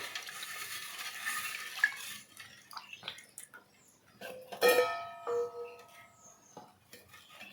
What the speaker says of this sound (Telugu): జున్ను పాలు అయితే పోస్తున్నాను జున్ను పాలు పోసాక ఇదంతా కలుపుకోవాలి